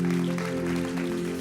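Congregation clapping together at a church service, a steady dense patter of many hands held for a moment under a sustained low musical drone.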